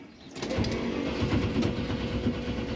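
An old car's engine cranks briefly and then catches, settling into a loud, rough, steady running rumble close by, with no talk.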